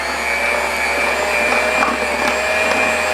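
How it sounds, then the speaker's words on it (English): An electric mixer creams shortening and sugar for cookie dough, a loud, steady motor whir that runs the whole time, with small ticks and knocks from the beaters against the bowl. "I'm gonna go over here to my mixer. So I'm just gonna cream this,"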